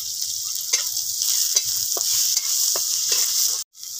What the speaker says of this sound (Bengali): এবার রসুন পেঁয়াজকে আমি ভালো করে তেলে মেরে নিয়েছি।